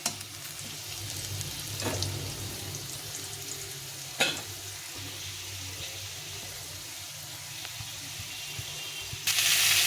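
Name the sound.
pointed gourd (potol) frying in oil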